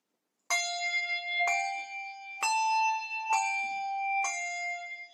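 Handbells rung one after another in a weaving exercise, five clear bright strikes at roughly even intervals, each ringing on with a sustained metallic tone, close and alone with no talking.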